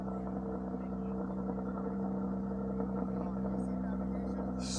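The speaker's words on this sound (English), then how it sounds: "Porsche GT3 that just fired up over there." A Porsche GT3 engine idles steadily after starting up at a Shelby cruise-in car show, a continuous low hum at moderate distance with no strong revving.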